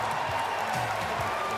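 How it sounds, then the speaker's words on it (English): A crowd at an NHL expansion draft applauds in a broad, steady wash of clapping and cheering, with a voice speaking faintly underneath. "A huge applause"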